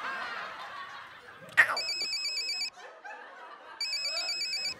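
Mobile phone ringtone in a comedy sketch about a flower seller: a bright electronic melody plays in two short bursts after a sharp click, with soft laughter and chuckling around it.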